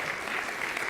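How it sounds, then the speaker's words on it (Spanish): A church congregation claps together, a brief, dense patter of many hands at moderate distance, steady and unbroken with no voices over it. "¿Cuántos le dan un aplauso fuerte al Señor?"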